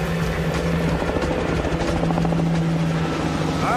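Helicopters arrive overhead on a cold, rainy set, making a loud, continuous rotor thrum with a steady pulsing chop that dominates throughout.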